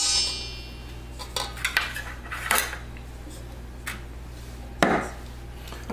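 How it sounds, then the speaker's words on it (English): A fork or whisk clinking against a bowl while flour is mixed for banana muffins, light irregular taps and scrapes up close, with a sharper knock near the end and no talking. "flour, you want to go ahead and mix it up thoroughly"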